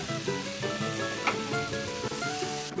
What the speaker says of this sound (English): You start by just dropping butter in a frying pan, chuck your banana in there